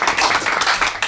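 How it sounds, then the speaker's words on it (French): An audience claps for a performer named Marie-Laure at a talk event, a dense, steady patter of many hands close by with no voices over it. "Je crois que vous pouvez l'applaudir."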